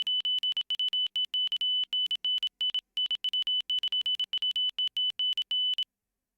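A steady stream of loud, single-pitch electronic beeps in an uneven pattern of short and long tones comes from a security challenge audio file, with tight gaps between beeps and no other sound until it stops.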